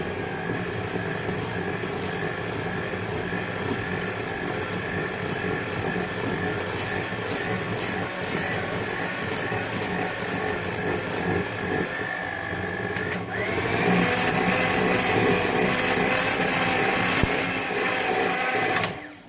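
An electric mixer slowly beats icing sugar into red velvet cake frosting, a steady rattling whir that runs throughout and grows louder and brighter for the last few seconds before cutting off.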